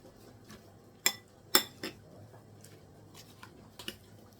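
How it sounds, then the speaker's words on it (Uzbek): A spoon clinks and scrapes against a bowl while matsoni yogurt is stirred, a few sharp metallic taps then softer, sparse clicks, quiet and close. "Shu qatimizni ham aralashtirib olamiz."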